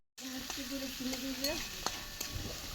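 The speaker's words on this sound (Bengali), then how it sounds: "পেঁয়াজগুলো তেলে দিয়ে কিছুক্ষণ লাল হওয়া পর্যন্ত ভেজে নিলাম।" Onions frying in oil in a home kitchen sizzle steadily and close up, with a few light clicks of stirring and a faint background tone over the continuous crackle.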